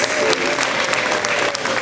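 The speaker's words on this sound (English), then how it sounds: "how about another big round of applause for primary jingle bells" A school gym audience at a Christmas concert gives a big, full round of applause for a primary class, loud continuous clapping with a murmur of crowd noise.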